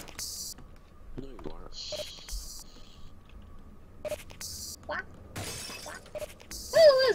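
Several glass panes break in short, separate crashes of shattering glass in the video game Trouble in Terrorist Town on a rooftops map, with a player talking between them.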